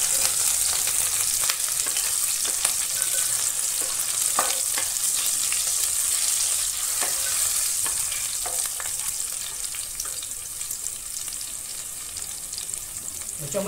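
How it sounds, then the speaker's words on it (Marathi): Green chillies fry in a pan with a loud, even hiss that stays constant throughout, broken by faint occasional crackles and light stirring taps, close by and without any voices. "मिरच्या, त्याला चांगलं फ्राय करून घ्यायचं आहे"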